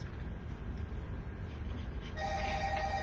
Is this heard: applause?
no